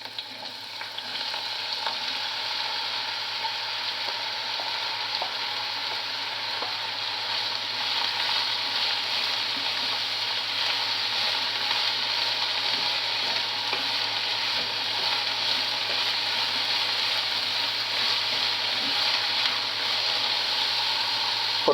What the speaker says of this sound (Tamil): ஸோ இப்போ இதை போட்டு அந்த எண்ணெயில் போட்டு கொஞ்சம் வறுத்து எடுக்க போகிறோம்.